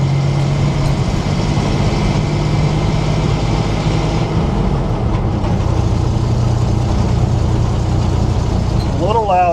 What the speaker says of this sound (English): Love that little 6-cylinder.